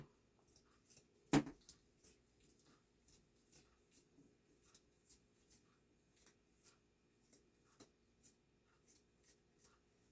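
Scissors snip repeatedly through two layers of fabric being cut for a sleeve, a steady series of soft close crisp cuts with one louder clack near the start, in a quiet room.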